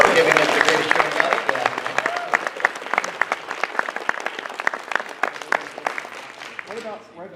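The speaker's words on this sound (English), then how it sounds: "let's give them a big round of applause" A crowd applauds with sharp, dense clapping that gradually thins out, with cheering voices mixed in near the start, at the WhoFest 3 closing ceremony.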